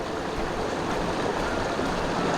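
A rushing waterfall in the puzzle game The Talos Principle, a steady, loud broadband wash of falling water with no pauses and no talk.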